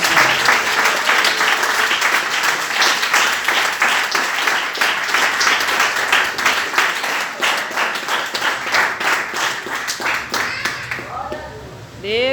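A church congregation applauds in sustained, dense clapping for about eleven seconds, loud and steady before thinning out at the very end as a voice begins to speak.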